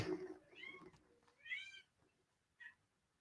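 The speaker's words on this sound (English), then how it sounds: "The kittens are just going nuts." Kittens meowing in short, high-pitched cries, three separate calls with pauses between, fairly quiet and close.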